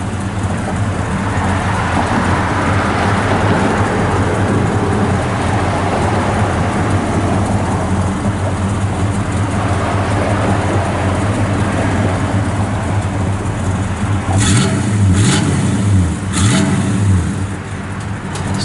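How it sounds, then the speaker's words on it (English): A 1967 Chevrolet Chevelle Malibu convertible with factory dual exhaust and quiet mufflers runs at a steady, close rumble. A few short revs rise near the end. "Still sounds good out the exhaust."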